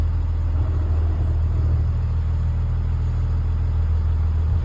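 A school bus idles with a steady, deep engine rumble at close range as it rolls to a stop at a rodeo drop-off, low and constant with no voices.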